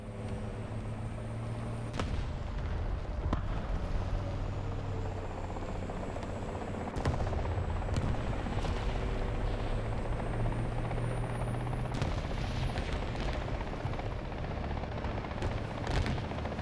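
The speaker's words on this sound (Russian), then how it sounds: "И вертолет, да?" Helicopter in the War Thunder video game, a steady loud rotor drone with low thumping throughout, mixed with battlefield engine rumble and occasional sharp impacts.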